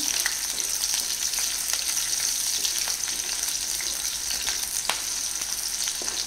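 Chopped garlic and green chili fry in hot oil in a pan, giving a steady, bright sizzle with crackles and small pops, close and continuous, with no talking.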